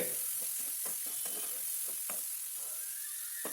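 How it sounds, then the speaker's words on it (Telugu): Onions frying in a pan with fenugreek leaves for a masala brinjal curry, a steady bright sizzle with repeated short stirring scrapes at an uneven rhythm, close and moderately quiet. "లైట్గా మెంతికూర వేసుకొని ఆ ఉల్లి ఉల్లిపాయలతో సహా వేయించుకుంటే మంచి ఫ్లేవర్ వస్తుంది"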